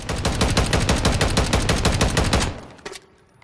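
A Stinger Hawk ACR .450 Bushmaster rifle in Call of Duty Modern Warfare fires one loud, fast, steady full-auto burst of about twenty rounds at close range, then stops abruptly, leaving a clattering tail and a brief mechanical click.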